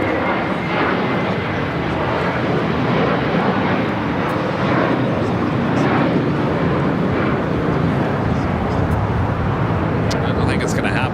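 An ANA Boeing 787-9 Dreamliner in Star Alliance livery, arriving from Tokyo Haneda, landing at Los Angeles airport, its loud, steady engine roar filling the scene while a voice talks over it.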